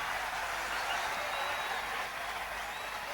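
Crowd at a 1991 GAA Gaelic football championship match roaring and applauding after a score, a steady, dense wash of cheering from a large distant crowd throughout.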